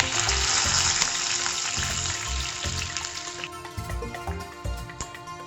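Cumin seeds, mustard seeds and curry leaves frying in hot oil make a steady, bright sizzle that fills the first half, then settles into quieter crackling and popping with occasional low knocks.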